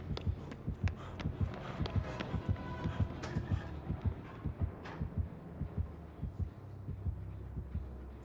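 Heartbeat sound effect from the video game Dead by Daylight, a steady, quick double-thump pulse repeating throughout, fairly quiet and alone without talk.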